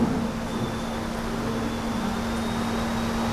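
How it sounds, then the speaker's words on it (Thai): An electric fan runs steadily during a Buddhist sermon at a Thai temple, a constant loud whirring drone with a low hum that fills the whole stretch without pause. "ปิดปิดพัดลมแล้วดัง"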